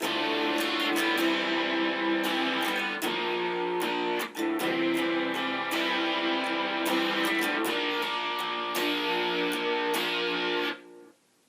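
Distorted electric guitar strums steady rhythm chords, loud and continuous, with sharp strum attacks before ringing out at the end.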